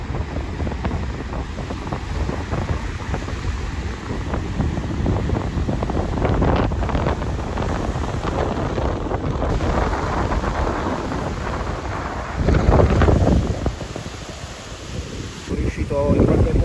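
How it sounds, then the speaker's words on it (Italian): Strong bora wind buffets the microphone at a campsite in a steady, roaring rush, with heavy low rumbling gusts that surge louder near the end. "sono nel solito camping e tira un forte vento"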